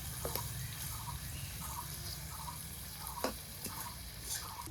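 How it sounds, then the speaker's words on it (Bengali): Chicken pieces fry crisp in hot oil with a continuous, moderate sizzle, and occasional light clicks and taps from stirring come through near the pan. "চিকেনটা একদম কড়া করে ভেজে নিচ্ছি,"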